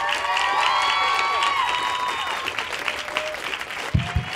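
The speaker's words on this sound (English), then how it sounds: "Big round of applause." An audience at an Apple Store event bursts into loud, steady clapping with a few cheers, then the applause thins out and fades after a few seconds.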